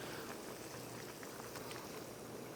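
Mala hotpot broth with tofu, mushrooms, bamboo shoots and seafood bubbles steadily in a pot, a dense continuous simmering hiss with soft popping bursts, close and fairly quiet, with no voices.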